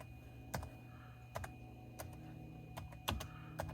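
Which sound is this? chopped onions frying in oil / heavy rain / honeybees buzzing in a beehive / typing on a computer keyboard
typing on a computer keyboard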